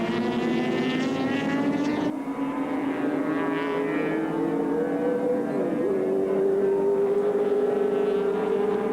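Touring race cars at Oran Park Raceway in a 1984 ATCC round, engines droning loudly and steadily with pitch shifts as cars pass and change gear, a continuous far-to-mid track roar.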